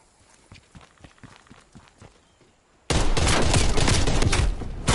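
Call of Duty hip-fire gunfire: after a stretch of quiet footsteps and clicks, a sudden loud sustained burst of automatic fire fills the rest of the moment, close and dense.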